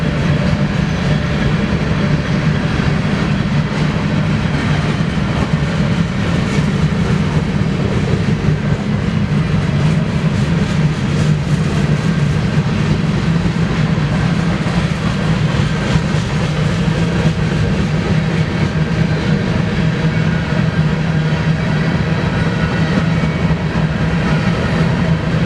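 An eastbound BNSF grain train led by engine 5782 rolls past in Spokane Valley, Washington, a loud continuous rumble with steady clickety-clack of wagons as it speeds up, no talk over it.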